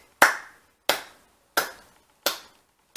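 Five sharp, dry hand claps ring out alone, close and evenly spaced at a slow, deliberate pace, each with a brief fading tail into silence.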